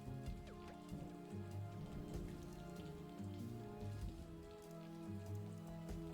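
Rain falls steadily in a video game, a dense patter that stays continuous and fairly loud over a low hum, with no voices.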